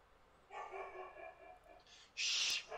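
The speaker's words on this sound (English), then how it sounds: "It sounds like a big beefy dog." A big Great Pyrenees dog gives a couple of deep, muffled barks at a distance, a low woof followed by a sharper bark near the end, over a quiet background.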